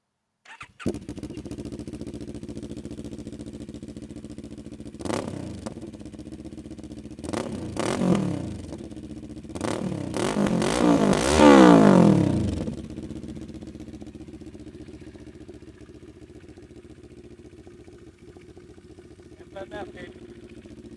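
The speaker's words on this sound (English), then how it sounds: "And I'll start it up for you, I'll let you hear. This is with the DB killer in." A Moto Morini X-Cape 650 fitted with an FMF high-mount exhaust and its dB killer in starts up loud and settles to a steady idle. Several sharp revs follow, building to a longer climb before it drops back to idle.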